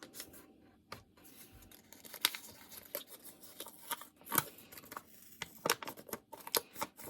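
A sheet of paper is folded diagonally on a table, with its corners lined up, producing close, quiet crinkles, rustles and a few sharp creasing crackles in an irregular series.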